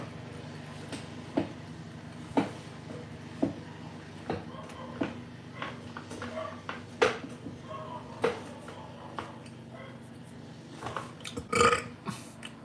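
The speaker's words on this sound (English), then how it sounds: "This chair makes fart noises." A creaking chair lets out a string of short, fart-like squeaks and pops at irregular intervals, fairly close, with a louder burst near the end over a low room hum.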